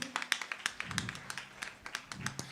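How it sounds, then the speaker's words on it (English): An audience at a Women's Month concert claps, a dense patter of many hands with sharp irregular taps, fairly faint and steady throughout. "Please give them a round of applause."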